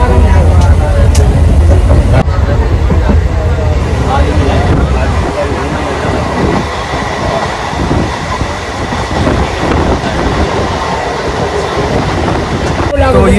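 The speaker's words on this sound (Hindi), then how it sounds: "तो ये जो फिलहाल अभी ट्रेन चलती है जयनगर से जनकपुर के बीच में" Onboard the Jaynagar to Janakpur train, a loud, steady rumble of wheels on track runs throughout with rhythmic clatter, and voices chatter underneath.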